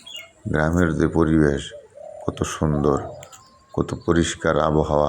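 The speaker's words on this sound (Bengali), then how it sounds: "গুগু ডাকে, আর বিভিন্ন পাখির কিচিরমিচির শব্দে প্রাণটা জুড়িয়ে যাচ্ছে।" Doves coo and small birds chirp faintly in a rural village with dirt roads, largely beneath someone talking over them.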